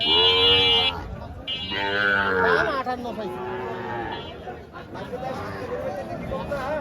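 White Sahiwal cattle moo loudly and repeatedly close by, long drawn-out calls overlapping amid a busy cattle market background with people talking, at Ambari market, Dinajpur.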